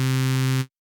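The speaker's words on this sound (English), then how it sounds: "The bandstop filter only lets the frequencies outside of the frequency band pass." A steady, buzzy synthesizer tone passes through a bandstop filter, holding loud and even for about half a second before cutting off abruptly into silence.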